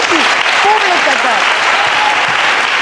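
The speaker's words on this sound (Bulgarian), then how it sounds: "Тук е място за аплодисменти!" Audience applause fills a Miss Bulgaria 2013 pageant stage, a steady dense clatter running the whole moment while a voice talks over it.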